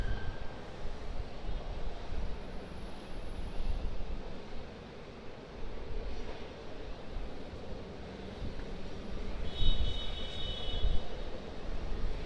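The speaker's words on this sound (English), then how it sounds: "Cathay Pacific Boeing 777-300 ER taxiing out from the international terminal" A Cathay Pacific Boeing 777-300ER taxiing out from the international terminal at Sydney Airport: a steady, broadband jet engine rumble and whine heard from a distance, mixed with wind noise on the microphone, with no voices.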